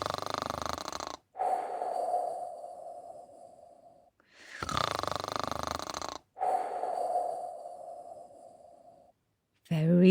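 A narrator's voice imitates a crocodile snoring in a children's story, with long, drawn-out nasal snore breaths repeating in a slow rhythm, close and clear with short silent pauses between them.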